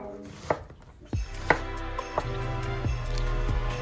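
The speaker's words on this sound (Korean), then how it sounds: "양파는 너무 얇게 말고 어느 정도 좀 두께감 있게 슬라이스를 해서 준비하도록 하겠습니다." A knife slices through onion on a cutting board, several separate thuds and crunches at an uneven pace, close by and moderately loud.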